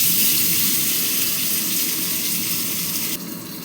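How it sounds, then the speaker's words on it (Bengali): Hilsa fish tail coated in salt, turmeric and dried chilli powder sizzles steadily in hot oil, a close, loud, dense hiss that stays even throughout and eases slightly near the end. "দেখো আমি ভেজে নিচ্ছি মাছটা।"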